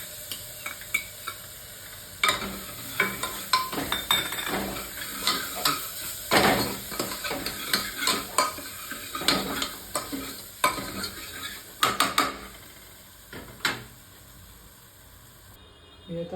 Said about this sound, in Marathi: तर खिचडी भातमध्ये मी थोडीशी डाळ ॲड करतो